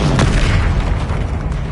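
A single loud booming blast from the Confringo curse in Hogwarts Legacy, a sharp hit near the start followed by a rumbling decay, no talk.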